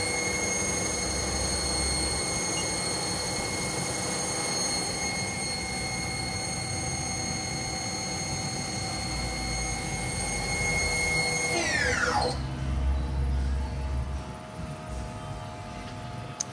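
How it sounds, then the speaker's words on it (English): A 2005 HAAS TL-1 CNC lathe spindle running at 1,800 RPM, a steady high whine with tonal harmonics that then spins down sharply near the end, loud and close with no talking. "the preceding video is a 2005 HAAS TL-1 CNC lathe"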